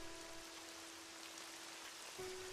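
Steady rain hisses evenly throughout, a soft continuous wash with a faint low tone underneath and no voices.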